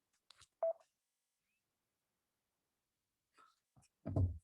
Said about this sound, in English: my phone is going off the hook with emails.